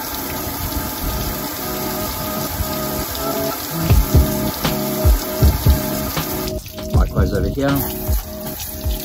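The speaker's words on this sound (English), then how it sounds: "get your hose on sort of a fine sort of a stream setting like that, stick it in the chassis rail" A garden hose on a fine stream setting sprays water into the chassis rail of a 4WD, making a close hiss and splatter with uneven bursts, while someone speaks briefly.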